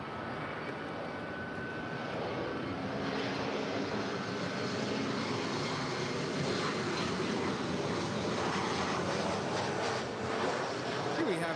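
A four-year-old Delta Connection Embraer E175 LR jet arrives at LAX, its engines a steady, broad roar that stays constant throughout at moderate distance, with no talk over it.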